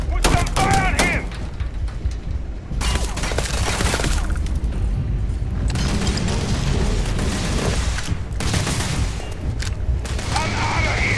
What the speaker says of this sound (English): Put some fire on him!